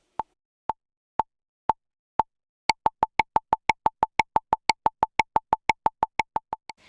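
Logic Pro X metronome click track crossing from 6/4 into 12/8: five widely spaced, evenly timed clicks, then a quicker run of steady clicks with brighter accents on some beats, clean and alone.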